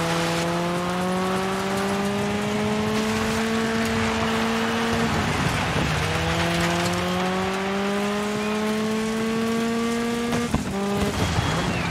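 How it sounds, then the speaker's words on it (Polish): A car engine in the off-road racing game DIRT 5 runs unevenly, its harmonic drone rising and falling through gear changes with brief dips and a sharp break, loud and continuous with no talk. "Nierówno pracuje silnik"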